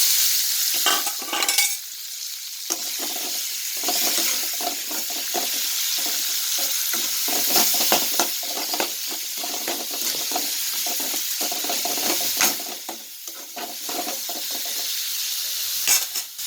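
Long-cut large onions, five green chillies and curry leaves sauté in a pan for anchovy dry fish thokku. A steady sizzle runs throughout, broken by repeated scraping stirs, with no talking.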